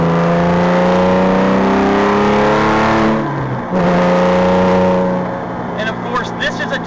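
Porsche test car with a hand-built R43 Flat 6 Innovations flat-six engine revs up and shifts through gears, rising tones climbing before a brief lift off the throttle, then pulling again, loud and close with a voice talking over it.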